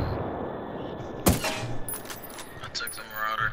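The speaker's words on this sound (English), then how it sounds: "I'm shooting the lights out" Gunfire shooting out lights in the video game Ghost Recon Wildlands: one loud, sharp shot followed by a quick run of lighter, crackling reports over steady background noise.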